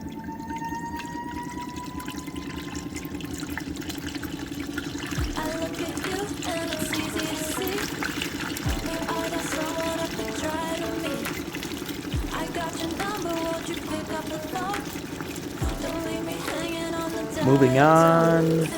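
A 3D print washes in isopropyl alcohol inside a wash station, giving a steady churning, trickling liquid sound with a constant motor hum, periodic soft thumps and a louder surge near the end.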